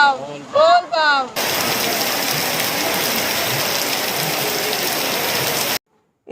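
Heavy monsoon downpour at the Baba Baidyanath Dham temple in Deoghar, a loud steady roar of rain hammering surfaces for several seconds after a brief burst of voices, then cutting off abruptly.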